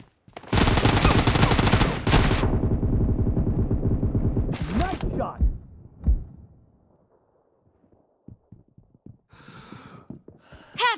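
Gunfire in the video game PUBG Mobile: a sustained loud burst of rapid automatic shots, another short burst, then scattered single shots trailing into quiet.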